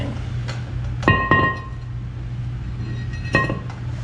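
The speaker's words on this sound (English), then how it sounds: "Then we're just gonna take the rotor off." A Jeep brake rotor being taken off and handled gives a few sharp metallic clinks and a ringing knock, close, over a low steady hum.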